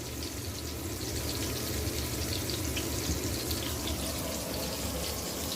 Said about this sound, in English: Right now I'm letting these onions fry.